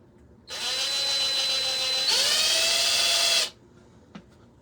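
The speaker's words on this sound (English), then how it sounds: "I'm drilling a hole right there where that bubble's at" A power drill whines steadily at close range for about three seconds, briefly dipping in pitch midway, then stops, followed by a faint tap, while drilling into an air bubble in cast resin.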